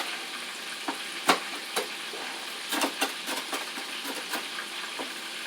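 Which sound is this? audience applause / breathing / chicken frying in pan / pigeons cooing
chicken frying in pan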